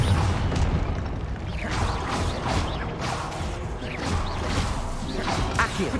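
Fiery Confringo spell blasts and combat effects in Hogwarts Legacy, a busy mix of booms, whooshes and crashes layered over continuous game music at a steady level.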